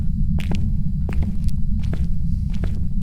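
Footsteps in the horror game Phasmophobia, a series of distinct steps at an irregular pace, spaced across the clip over a steady low rumble, with no talking.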